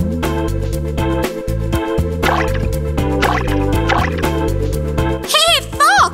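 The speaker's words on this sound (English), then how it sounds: "the goat jumped into the well." A cartoon splash and dripping effect marks a goat jumping into a well of cool water. It plays over bouncy background music, with quick rising and falling whistle-like tones near the end.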